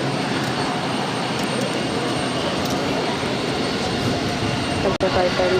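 An ex-Alaska Airlines Airbus A321neo jet at Boston Logan: a steady rushing engine roar at moderate distance, constant through the stretch, with a brief dropout near the end and some speech mixed in.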